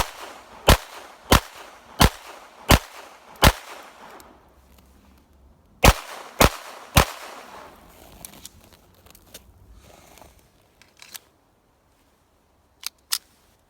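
A Ruger Mark IV pistol fires outdoors in a wet, slippery setting: eight sharp, loud cracks in two quick volleys, followed by a few fainter snaps and silence.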